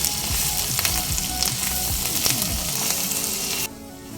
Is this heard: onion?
yes